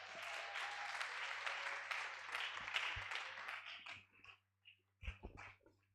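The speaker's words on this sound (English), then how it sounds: "another round of applause for Mr. Joshua Alabi" Symposium audience applause heard as steady, moderately distant clapping that thins out into scattered claps and brief pauses before a last short burst.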